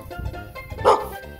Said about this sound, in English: Oh, look, a dog!